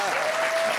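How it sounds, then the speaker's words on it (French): A comedy show audience breaks into loud applause, a brief, dense burst of clapping from the crowd. "qu'on peut applaudir très fort"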